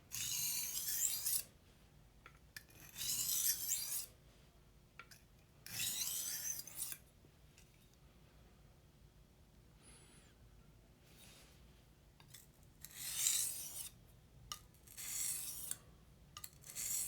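A knife being sharpened gives several separate bursts of raspy scraping strokes, fairly faint and close, with quiet pauses in between and no talking.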